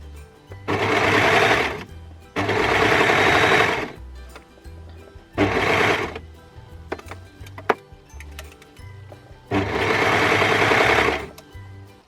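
A sewing machine stitches stretch fabric for a Stella hoodie in four loud, close bursts of rapid whirring, with quiet handling clicks between them.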